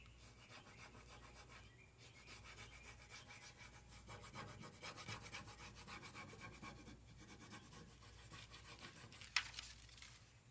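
Steady scraping and rubbing over a Prima Redesign rub-on transfer laid on furniture, a dry rasping stroke repeated back and forth close up, with one sharp tick near the end and no talking.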